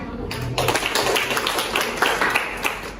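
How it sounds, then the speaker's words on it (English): Classroom applause for a student named Aisyah during a micro-teaching lesson: dense, steady clapping from a group starts after a short pause and carries on evenly, with some voices underneath. "Give applause for Aisyah"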